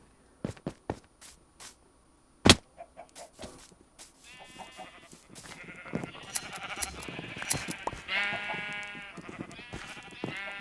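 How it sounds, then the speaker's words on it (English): Blocky sheep in Minecraft bleat repeatedly as they are sheared for wool, several overlapping bleats building up after a few sharp clicks and taps early on, fairly close and clear with no talk. "I just sheared 3 sheep and I got 7 wool."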